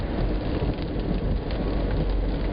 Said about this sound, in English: After all, it is raining here.